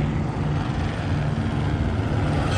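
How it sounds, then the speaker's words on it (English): Continuous low mechanical drone of a helicopter, fairly loud and steady, with no other clear sounds. "they already got the helicopter out"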